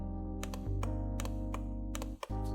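Several sharp plastic clicks from an Infinix Inbook X2 laptop touchpad, some in quick pairs, tap out over a steady low electrical hum, close up and fairly quiet.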